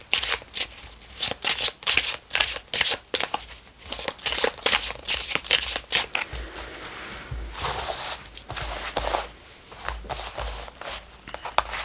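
Tarot de Marseille cards are shuffled up close in a rapid run of crisp riffles and slaps that goes on for several seconds, followed by softer rustling and handling.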